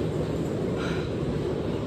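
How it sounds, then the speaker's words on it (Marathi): An air-conditioned suburban local train stands at a station platform in Palghar, giving a steady, fairly loud broadband rumble and hiss throughout, with no voices. "त्याच्यावरनं ही AC वाली लोकल आली आहे"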